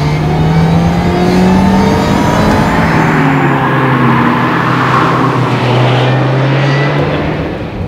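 A Lotus Exige Cup with a supercharged 1.8-litre Toyota engine, up close and loud, its engine note climbing and holding steady with a whining supercharger over continuous road noise, with no talking.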